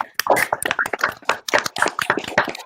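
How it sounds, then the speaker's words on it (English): Applause from players attending a Call of Cthulhu tabletop game session at Gen Con, a dense run of overlapping hand claps lasting a few seconds at steady, fairly close volume with no speech over it. "Give yourselves a round of applause, everybody."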